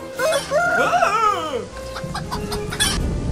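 A rooster crows loudly and close in a long rising and falling call, then carries on with rough clucking noises, with no talk over it.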